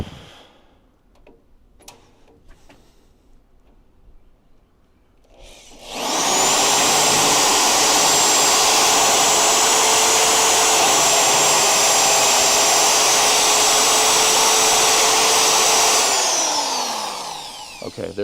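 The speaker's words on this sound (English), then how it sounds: "And I know I drilled through the frame rail." A spot weld cutter bit drills through a truck's steel frame rail with cutting fluid applied, a loud steady high-pitched whine that starts abruptly after a few quiet seconds, holds evenly for about ten seconds, then winds down.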